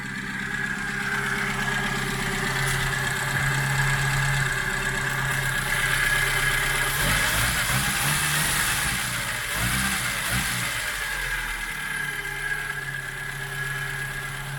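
A 1970s Austin Allegro engine idles steadily and close by, a continuous low rumble with a slight roughening and unevenness partway through before it settles again; no one speaks.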